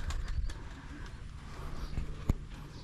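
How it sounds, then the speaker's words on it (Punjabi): Pigeons kept at a picnic spot coo softly in low, throaty murmurs against outdoor background noise, with a few faint clicks and no speech. "ਦੇਖੋ ਉਹ ਕਬੂਤਰ ਰੱਖੇ ਹੋਏ ਆ"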